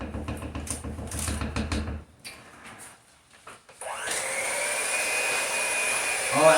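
An electric mixer whirs steadily at high speed after a few seconds of clatter and pause, beating a peanut butter fudge mixture in a home kitchen; the motor hum is close and continuous.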